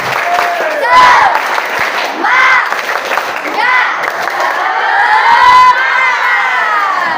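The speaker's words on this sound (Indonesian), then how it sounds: "mari kita beri tepuk semangat untuk kakak-kakak dari Unisula" Junior high students at a school session with Unissula medical students chant and shout together in a tepuk semangat clapping cheer, a loud, lively crowd of young voices with rhythmic bursts running throughout.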